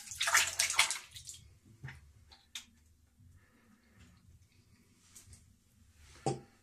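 Water splashes briefly into a sink before shaving with Bic Chrome Platinum razor blades, a short close burst of running water followed by faint clinks and small splashes in a quiet room.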